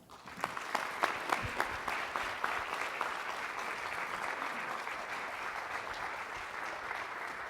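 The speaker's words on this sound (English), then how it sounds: "Please, a round of applause, Buckeye way, for Dr. James Minor." Audience applause for a guest lecturer at a distinguished lecture evening. A few sharp, distinct claps open it, then it swells into a steady, dense wash of clapping from a large crowd that holds evenly to the end.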